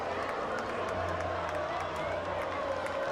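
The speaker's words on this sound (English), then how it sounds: "A fired up crowd, no doubt about that as well." Fired-up crowd at a high school football game between East Kentwood and Hudsonville, roaring and cheering steadily throughout with scattered whoops and claps, a dense continuous wash of voices at moderate distance.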